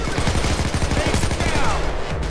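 Rapid gunfire in Payday 2, a dense stream of quick shots close and loud over a busy in-game background.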